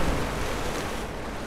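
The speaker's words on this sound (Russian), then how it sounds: "Вода поднимается, да?" Water rising and churning in a geothermal tomb chamber in Rise of the Tomb Raider, a loud, steady broadband rush and roar with no talk over it.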